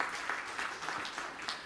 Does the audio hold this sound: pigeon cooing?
no